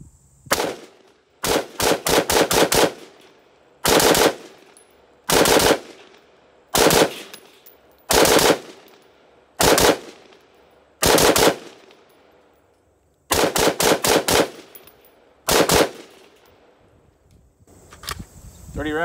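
A SIG rifle fires Winchester 5.56 55 grain FMJ rounds in loud, sharp bursts of rapid shots, clustered in groups of two to five with short gaps between, close and dominant.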